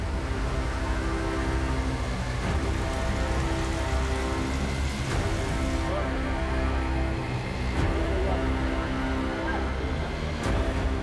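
Heavy hurricane rain pours down steadily as a dense, continuous hiss that stays loud and unbroken throughout, with a low rumble underneath.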